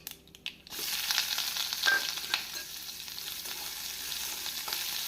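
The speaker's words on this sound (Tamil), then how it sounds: "வெங்காயம் ஒரு நிமிடம் நம் வதக்க வேண்டும்" Chopped onions hit hot oil in a pan after mustard seeds pop, making a tomato chutney; a sharp sizzle bursts in and then settles into a steady, close frying hiss with occasional stirring scrapes, no voices.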